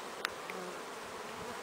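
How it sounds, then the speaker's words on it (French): Honeybees buzz steadily at the entrance of a hive, a faint, continuous swarm drone with a couple of brief closer passes, no voices. "nombreuses abeilles rentrent du pollen"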